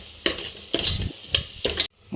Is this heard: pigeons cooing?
no